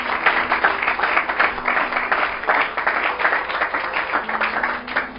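A church congregation applauds and cheers together in a dense, sustained wave of clapping that fills the whole stretch at steady loudness, with no single voice standing out.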